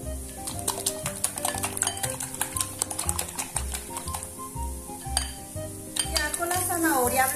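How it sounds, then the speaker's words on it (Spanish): Eggs are beaten in a bowl, with a utensil clicking and scraping against the sides in quick rhythmic bursts, loud and close, with a few brief pauses and some rattling toward the end. "Entre más mezclen los huevos, claro que no hasta que llegue a punto de nieve"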